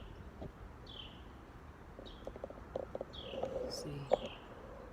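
Birds call and chirp in the morning around a quiet rural home in the Philippines, brief scattered chirps and a few coos rising over low background noise, while a person speaks briefly.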